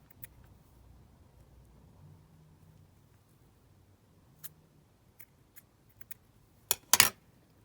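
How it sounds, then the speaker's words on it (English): Small scissors snip loose threads off a craft embellishment, with a few sparse, crisp clicks followed by a quick cluster of close, sharp snips at the end in an otherwise quiet room. "let me just trim those little threads off of the bling"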